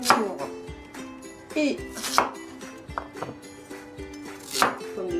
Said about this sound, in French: on va à présent les découper en dés afin de les faire revenir à la poêle